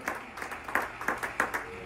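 A church congregation claps in a quick, fairly even rhythm, a run of distinct hand claps at moderate volume, sounding like a worship hall rather than a large arena.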